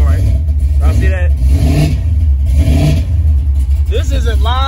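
A 1987 Chevrolet Monte Carlo SS on 24-inch wheels rumbles loudly with a heavy, steady low engine drone and revs, up close, while people talk and shout over it throughout.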